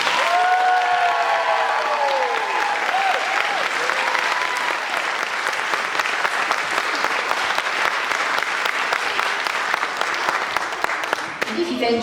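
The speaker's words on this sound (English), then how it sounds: "can the audience give one really big round of applause for our amazing" Loud, sustained audience applause at a primary school pop concert rolls on for about twelve seconds with cheering, while an adult voice speaks over the start before the clapping carries on alone.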